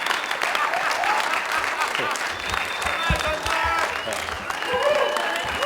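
A crowd at a public assembly meeting claps and cheers continuously, with whoops and shouted voices rising over the steady applause throughout.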